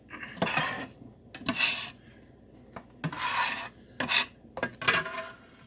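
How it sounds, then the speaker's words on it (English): A kitchen scraper drags pasta fazool into a container in about six rasping strokes. Each scrape is close and distinct, with short pauses between them and no talking. "Put this into a container. Using my Graham Care scraper."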